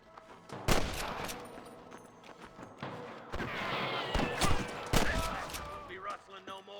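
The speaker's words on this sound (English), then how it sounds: "I can hear more gunshots." Bursts of gunfire in Red Dead Redemption crack and rattle at irregular intervals, some near and some distant, with muffled movement between shots.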